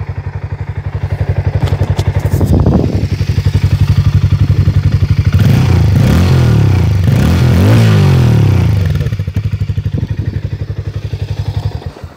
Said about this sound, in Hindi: एग्जॉस्ट साउंड बहुत अच्छा है बाइक का, मैं आपको एक बार सुनाता हूँ